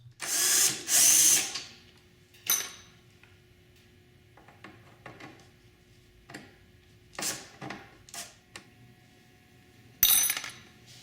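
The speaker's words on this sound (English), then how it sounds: "remove the 4 screws that hold the 2 trunk latch hooks in place" A power drill backs out screws holding the trunk latch hooks under the trunk lid of a Honda Goldwing GL1800, giving a loud opening burst, then scattered short whirs and taps, and a final burst near the end.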